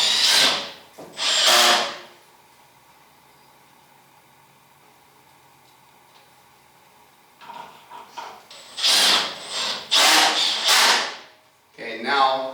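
Power drill driving screws into a wooden reloading bench, two bursts of high whirring, a quiet pause, then several longer drilling bursts close by.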